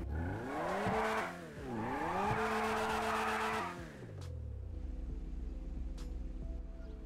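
Ferrari 599 Evoluzione in the GTA 5 video game, engine revving hard twice in rising, falling sweeps with a skid-like edge, then settling into a deep idle with faint clicks, loud and alone.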